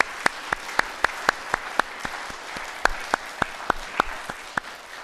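A church congregation at a Sunday worship service in a New York Holiness church applauds the choir with sparse, crisp hand claps. The claps land in a fairly even rhythm close by, heard alone without voices.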